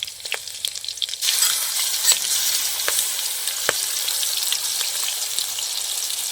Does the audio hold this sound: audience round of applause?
no